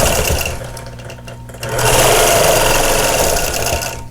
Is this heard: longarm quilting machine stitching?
yes